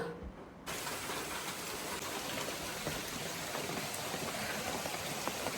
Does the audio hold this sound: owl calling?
no